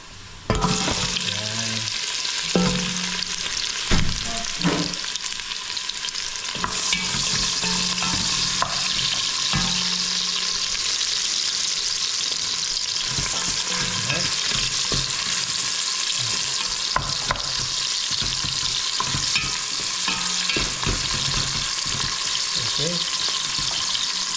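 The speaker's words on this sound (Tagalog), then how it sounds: "lagyan na po natin yung bawang sa sibuyas" Garlic and onion frying in a pan, a loud continuous sizzle with intermittent stirring scrapes and clatter close to the microphone, running steadily for the whole stretch.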